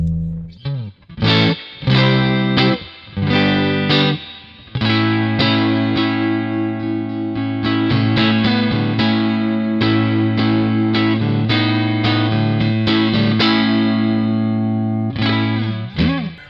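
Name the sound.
Fender Hot Rod Deluxe guitar amp breaking up, overdriven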